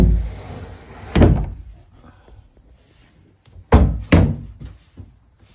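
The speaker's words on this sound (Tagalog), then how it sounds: "bubuksan natin ang drawer" A large wooden drawer without a handle being pulled open and pushed shut, giving one thudding slide early on and then two close, loud knocks near the end, with no talk.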